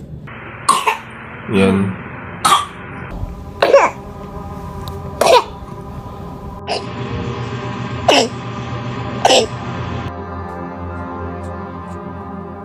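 A baby coughs in a series of short, sharp, raspy bursts spaced a second or two apart over several seconds, close up, with faint background noise and a brief word spoken.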